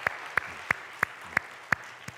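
Slow, steady clapping in unison in a church service, about seven sharp claps evenly spaced over a quiet, reverberant background.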